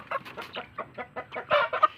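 Tinola-line chickens with yellow feet clucking in a small backyard farm, a quick series of close, short clucks and calls in rapid rhythm.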